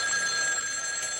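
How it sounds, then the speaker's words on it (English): A telephone bell ringing, a bright, continuous trill that fills the whole moment, loud and alone without talk. "Is that our phone?"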